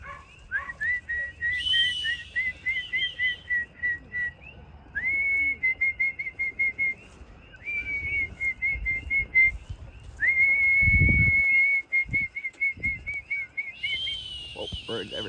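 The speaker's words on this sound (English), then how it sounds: "Oh, birds everywhere." Outdoors, repeated rapid whistled bursts of a bird call ring out in phrases over about fifteen seconds, fairly loud and close, with some low thumps and a dog nearby.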